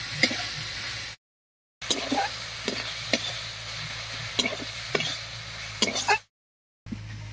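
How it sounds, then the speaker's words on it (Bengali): Onion paste and spice paste are mixed with water in a pan, giving wet scraping and stirring strokes at a loose rhythm over a low sizzle, broken by two short silent gaps. "এবার সব কিছু খুব ভালো করে মিশিয়ে নেব"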